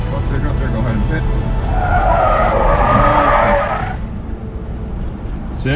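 Police car tires skidding and squealing during a PIT maneuver at a state trooper academy, a loud sustained screech over engine roar that cuts off abruptly, with voices underneath.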